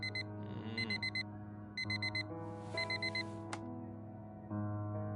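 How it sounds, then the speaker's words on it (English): Repeated electronic alarm clock beeps sound in short bursts of four, pausing and restarting over a sustained low musical drone, fairly loud and close, with no talking. "The same alarm tone that Harry can sleep through"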